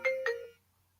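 A phone sounds an incoming-call tone, a quick two-note chime like a doorbell ding-dong that fades out, heard alone and fairly faint.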